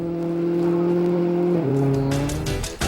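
Peugeot rally car running at speed through a stage of the 2002 Rally Australia, a steady loud engine drone that drops in pitch as the driver shifts, with a rough crunchy rasp near the end.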